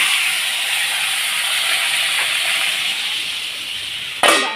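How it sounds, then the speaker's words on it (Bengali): Eggs frying in a little oil, heard as a loud, steady, steamy hiss close up that ends in a sudden, brighter crackling burst. "এখন আমি সব ডিমগুলোকে ভেজে নেব"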